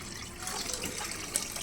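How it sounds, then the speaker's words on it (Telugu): Chicken leg pieces are washed in running water, a close, steady splash and gush of tap water filling and churning in a bowl, with no talk. "వీటిని మంచిగా వాటర్లో వాష్ చేసుకోవాలి."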